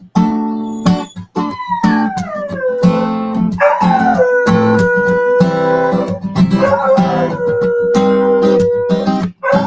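A dog named Champy howls in long, wavering, rising and falling tones over steady music, loud and close throughout.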